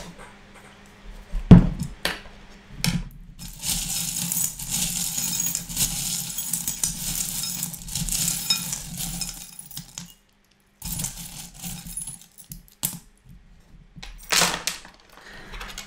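Small divination charms rattle and clink as they are shaken and drawn for a reading, a mix of scattered metallic and glassy tinkles, taps and shuffling up close, with a few quiet gaps.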